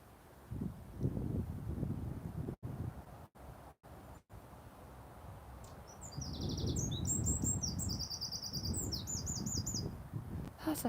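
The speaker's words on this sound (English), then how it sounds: "That's a firecrest." A firecrest sings outdoors on a live walk, its high thin rapid trills and chirps repeating in bursts from about halfway on, over low wind rumble and a few sharp dropouts.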